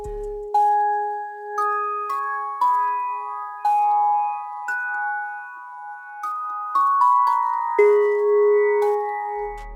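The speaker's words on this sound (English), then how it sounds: "And then to top it off, I added this bell section." Bell section for a futuristic beat, a series of clear, ringing bell tones stepping through a melody, each note struck and decaying over sustained lower tones, moderately loud with faint percussion and no voices.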